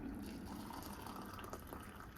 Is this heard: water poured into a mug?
yes